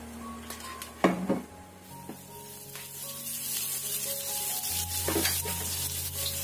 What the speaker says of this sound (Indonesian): Sedikit minyak, kita tumis dulu bawang putih dan bawang merahnya.